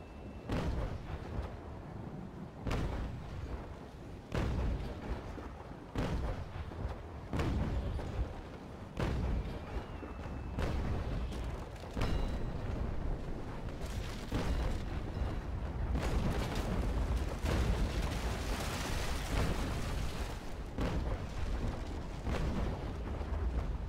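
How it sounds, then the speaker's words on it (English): Cannon fire from a ship in a naval video game, Constitution against Bellona: a steady run of deep booming shots at irregular intervals over a continuous rumbling battle bed, loud and close, with no talking. "I'm just going to shoot our grape shot at their sails"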